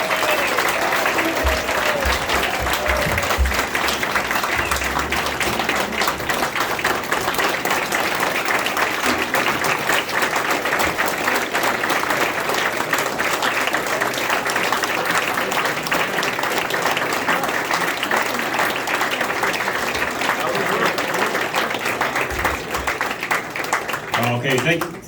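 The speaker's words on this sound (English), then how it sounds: "How about one more round of applause for these veterans here?" A crowd at an American Legion post ceremony honoring veterans with quilts gives a long, loud round of applause, dense and sustained for over twenty seconds with cheering voices, fading at the very end.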